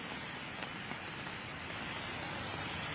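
Heavy rain falls steadily during a flood in Noida, a dense, even hiss of rain on surfaces with faint background traffic. The sound is continuous and moderately quiet throughout, with no talking.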